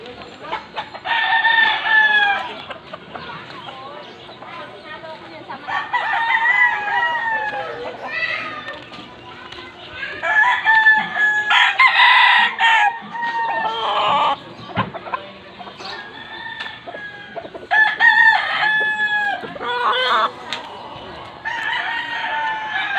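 Several roosters crow repeatedly over about twenty seconds, mixed with hens clucking, some calls near and loud, others overlapping in the background.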